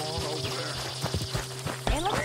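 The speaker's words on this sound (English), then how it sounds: "you couldn't help me get my other horse back from over there" Horse hooves clip-clopping in a short irregular run in the video game Red Dead Redemption 2, heard over a steady synthetic drone with a voice briefly at the end.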